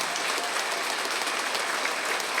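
An audience claps at an award ceremony, dense continuous applause from many hands, steady and fairly loud with no voices over it.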